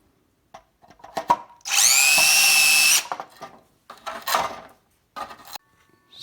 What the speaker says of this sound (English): So I'm going to use a unibit.